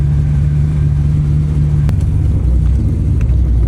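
Chevrolet Corvette C6 Z06 V8 on a wet track during a first track day: a loud, steady low engine rumble close by, droning without pause and shifting slightly in pitch near the end.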